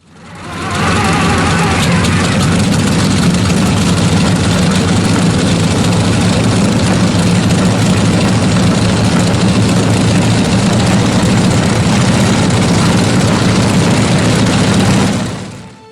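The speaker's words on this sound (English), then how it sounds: "hear the incredible sound of the Ford GAA 18-liter V8 engine" The Ford GAA 18-liter V8 engine of an M4 Sherman tank idles loud and close, a deep, steady rumble that holds evenly for about fifteen seconds before cutting off.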